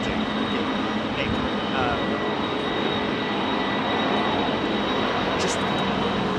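Jet airliner, BA382, taking off at full power from runway 27R at London Heathrow, a loud continuous broadband engine roar filling the whole stretch, steady and close throughout.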